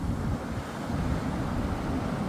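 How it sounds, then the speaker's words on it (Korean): Strong, high surf pounding the shore at Namhangjin beach in Gangneung, a continuous loud roar of breaking waves with heavy wind buffeting the microphone and no voices. "오 파도가 오늘 굉장히 센데요"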